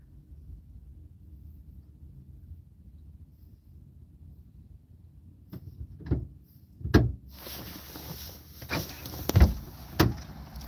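A locked door being tried from outside, several knocking thuds and rattles of the handle and frame after a quiet stretch, growing louder and more insistent toward the end.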